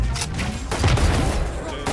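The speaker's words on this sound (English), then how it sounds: "Missiles away." Missiles launch and explode in the VALORANT shooter game: a rapid cluster of loud, booming blasts and crackling bursts over about two seconds, close and dense.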